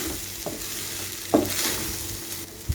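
Spinach rice being stirred with pepper powder in a pan, a spoon scraping and turning the grains in a few distinct strokes over a soft sizzle, close and with no talk.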